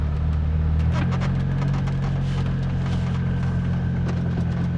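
A 2007 Lotus Exige S pulls away in first gear, its engine making a steady, loud drone heard from inside the cabin, with some rattles and mechanical ticking over it and a brief voice.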